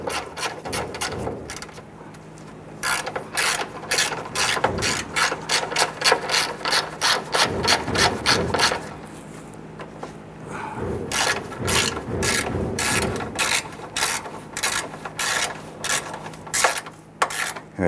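A hand ratchet snugs down a radiator bracket bolt on a 1994-2004 Ford Mustang, giving repeated bursts of quick, close metallic clicking strokes with brief pauses between them and no talking.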